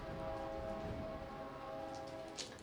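Train passing on nearby tracks, a steady rumbling roar with a sustained droning tone, heard fairly faintly in the background throughout.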